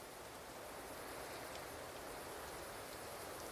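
Steady rainfall in the game Banishers: Ghosts of New Eden, a dense, even hiss of rain that stays constant and fairly loud throughout with no talk over it.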